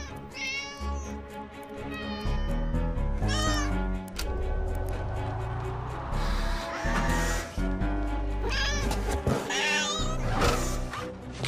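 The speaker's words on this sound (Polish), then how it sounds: "Biegnij za tym kotem!" Cartoon cat meowing from a Spider-Man animated series, a run of loud, drawn-out meows and yowls over busy background music and effects.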